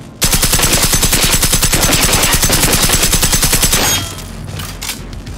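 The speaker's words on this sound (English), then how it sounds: "I should just go ahead and use this gun, since it uses the same ammo as my pistol" Rapid automatic gunfire in the video game Generation Zero, a loud, close, steady stream of evenly spaced shots for about four seconds before cutting off into quieter background noise.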